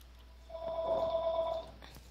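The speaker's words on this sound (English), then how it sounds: "phone is ringing" A telephone in a Minecraft survival island game rings once in a single steady electronic tone that lasts about a second before cutting off.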